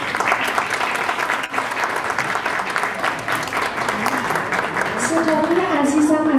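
An audience applauds steadily at a 2021 Tirgan festival event while a speaker's voice continues over the clapping, which stays dense and even throughout.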